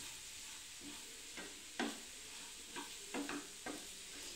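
Gooseberry pickle fries in oil with a soft, steady sizzle, broken by a few faint scraping stirs of a spoon in the pan, quiet and close with no voices.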